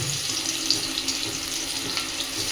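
Small potatoes frying in oil in a home kitchen: a steady, close sizzle with faint crackles and pops throughout, no voices over it.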